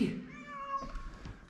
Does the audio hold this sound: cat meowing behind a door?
yes